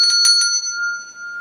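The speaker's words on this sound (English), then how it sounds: "This bell plays a musical sound." A pitched bell rings with a clear, sustained metallic tone, struck a few times in quick succession at the start and then left to ring on steadily.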